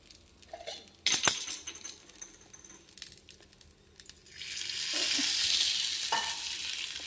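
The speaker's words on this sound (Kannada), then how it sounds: "ಎಣ್ಣೆ ಹಾಕಿ ಫ್ರೈ ಮಾಡ್ಕೊಳ್ಳಿ." Oil sizzling in a pan as chutney ingredients fry, a soft crackle that swells into a steady hiss midway, with a sharp metallic clink and a few light scraping stirs earlier.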